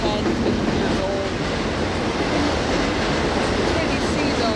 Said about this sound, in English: another one of BNSF's double-stack trains that I assume is coming from the Pacific Northwest passes through Rochelle